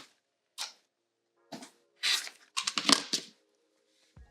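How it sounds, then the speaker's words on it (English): Scissors snip through fabric scraps in a few short, crisp cuts while zipper tabs are trimmed for a patchwork zipper case, close and fairly quiet with pauses between cuts. "I'm going to cut my zipper tabs from the scraps here."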